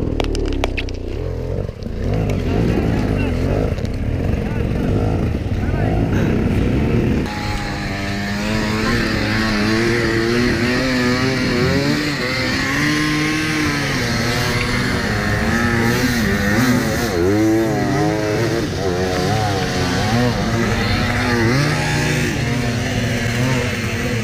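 A motorcycle on a steep expert uphill climb at the Beskid Hero 2017 hard enduro event revs hard and continuously, its pitch wavering up and down as the tire fights for grip.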